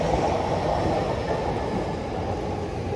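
An elevated metro train in a Japanese city neighbourhood rumbles loudly overhead, a continuous dense roar with rolling clatter from the wheels and no speech.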